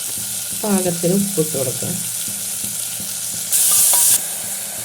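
Onion goes into coconut oil in a pressure cooker for a beef and potato curry, giving a low steady sizzle under a speaking voice, then a brief louder burst of hissing near the end.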